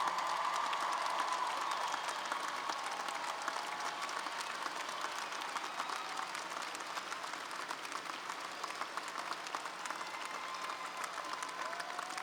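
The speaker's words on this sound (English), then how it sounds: "stand up so we can give you a round of applause today" A commencement crowd at a university graduation ceremony breaks into sustained applause, a dense, even wash of many hands clapping that holds steady throughout.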